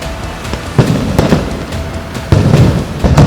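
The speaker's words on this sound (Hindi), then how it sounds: "पुलिस भीड़ को तितर-बितर करने के लिए आंसू गैस के गोले छोड़ रही थी" Police fire tear gas shells to disperse a crowd outside a BJP office in Imphal, Manipur, at night: loud, irregular sharp bangs and pops, several in a few seconds, over a constant crowd rumble.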